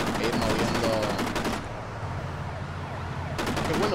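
Rapid bursts of gunfire from the video game Kane and Lynch: Dead Men rattle in two loud volleys with a quieter stretch between them, over a continuous game background.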